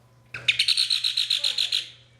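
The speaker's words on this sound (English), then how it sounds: "We have some gold-breasted starlings. And we have a pair of violet-backed starlings" Birds in an aviary, gold-breasted and violet-backed starlings, give a close, loud run of about a dozen rapid, rhythmic chirps that ends in a fading trill.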